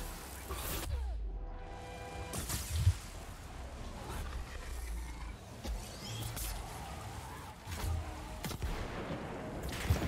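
Repeater grenade blasts and weapon fire from the video game Dauntless land as punchy bursts with whooshing effects over a busy combat mix, several impacts spaced irregularly across the stretch.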